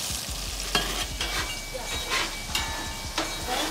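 Bell pepper, garlic and onion sauté in a hot pan for a Thanksgiving dinner, a steady close sizzle broken by clicks and scrapes of stirring.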